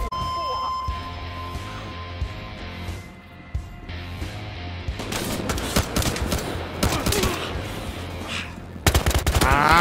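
Gunfire in the Battlefield Hardline video game starts with a sparse, quiet stretch, then erupts into dense bursts of rapid shots that grow louder toward the end, with voices heard along the way.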